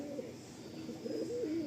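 Malwai pigeons coo softly in a low, rolling warble that rises and wavers near the end, steady and close against a faint background hum.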